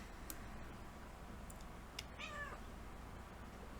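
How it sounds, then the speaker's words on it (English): A cat gives a single clear meow near the middle, close by, over a steady low background hum with a couple of faint ticks. "Say hello to the kitty cat."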